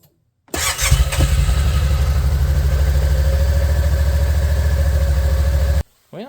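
A Kawasaki Teryx engine, freshly fitted with a new starter, cranks briefly and fires up, then settles into a loud, steady idle close by before shutting off abruptly.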